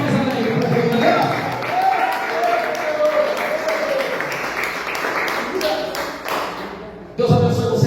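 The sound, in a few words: congregation applauding in church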